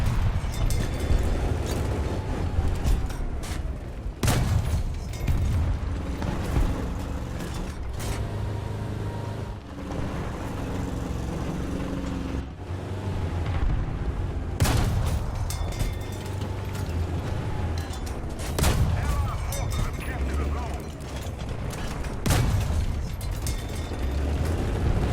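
Tank cannons fire in War Thunder, several heavy booms spaced seconds apart over a constant rumbling engine and mechanical creaking, loud and close with no talking.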